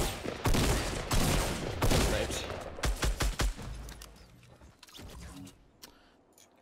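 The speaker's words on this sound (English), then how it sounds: "I'm being shot at." Gunfire in the Fortnite battle royale video game: bursts of rapid shots and single cracks come in clusters, loud and close at first, then thinning out toward the end.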